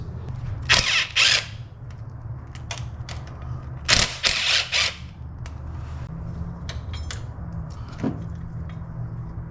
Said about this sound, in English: I'm gonna take out this bracket here, these 2 bolts. Those are 10 millimeters.